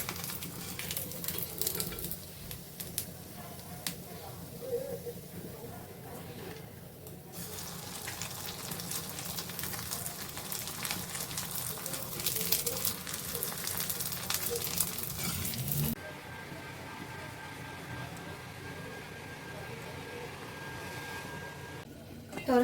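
A covered pot of village-style pomfret fish curry with brinjal simmers on the stove, giving a soft, steady bubbling hiss with occasional clatter, fairly quiet and continuous throughout.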